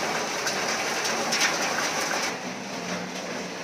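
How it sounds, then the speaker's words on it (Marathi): Heavy rain pours down in a continuous broadband hiss, loud and steady, easing slightly toward the end, with no talking. "खूप मोठा पाऊस आला त्याच्यामुळे मी घरात आली पळत"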